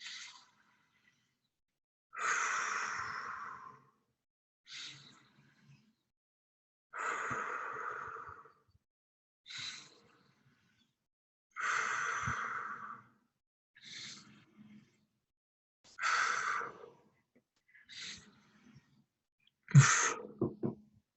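Slow, deep breaths from a guided self-regulation breathing exercise: about eight soft, airy inhales and exhales, each lasting a second or two, separated by quiet pauses, close and alone with no talk.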